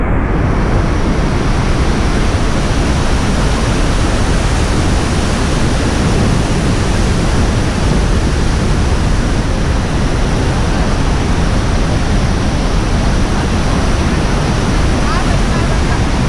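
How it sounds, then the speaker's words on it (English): Roaring waterfalls at Iguacu Falls, a dense, steady broadband rush of falling water that stays loud and unbroken throughout, with no voices. "This is just a fraction of the waterfalls also."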